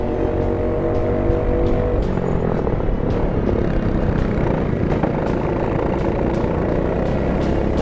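Racing kart engines on a GX-UK race track drone steadily and fairly loud, a dense continuous motor roar with no clear passes standing out and no talk.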